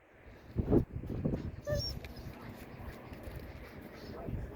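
A dog whimpers and gives short high yips like a puppy, a few close bursts early on followed by quieter whining, with birds chirping faintly in the background.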